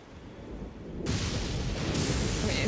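A lightning strike in Elden Ring: a low rumble of thunder swells, then a sudden bright crack at about a second in, followed by a sustained loud hissing roll that intensifies again near the end.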